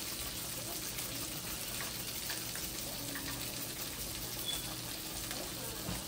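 Minced garlic sizzling in a hot pan, a dense steady hiss with faint clinks, continuous and close with no clear talk over it.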